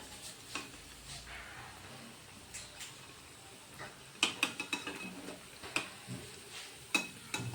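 Cauliflower chops frying in hot oil, a quiet crackling sizzle broken by scattered clinks and scrapes of a utensil against the pan, growing busier toward the end.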